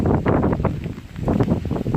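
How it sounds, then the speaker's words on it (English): Strong, gusty wind from Hurricane Irma buffets the microphone in loud, uneven surges that rise and fall over a couple of seconds, with no talking. "And the wind."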